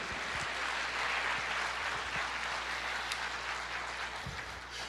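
A church congregation claps together in a steady, moderate wash of applause that continues across the moment, with a low hum beneath and no speech.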